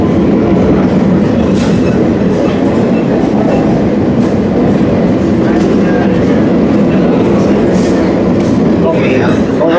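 An excursion train rolls along the rails with a loud, constant rumble and clatter of wheels, with occasional squeals and clacks, while people talk faintly beneath the noise.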